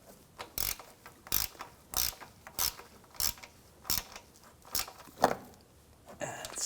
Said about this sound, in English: Tighten the lower bolts.